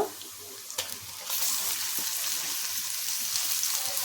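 Chicken pieces dropped into hot oil for chicken fry, a short clatter then a steady loud hissing sizzle that carries on to the end, with faint splashy water-like noise underneath.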